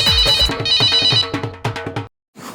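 A mobile phone ringtone rings loudly and close, playing a bright, repeating electronic melody that stops abruptly near the end.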